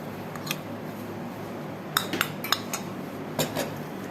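Minced meat being mixed with corn flour in a metal bowl for Peshawari chapli kabab, with a few sharp utensil clinks and scrapes against the bowl set apart by quiet gaps.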